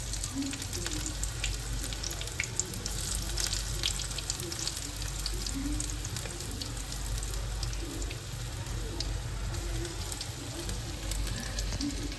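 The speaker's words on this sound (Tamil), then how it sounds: "பாருங்க எண்ணெய் எல்லாம் ஹீட் ஆகிடுச்சு. பக்கோடா போட்டுக்கலாம்." Pakoda frying in hot oil for kadhi pakoda, a dense, steady bubbling sizzle close by with small crackles throughout and no talking.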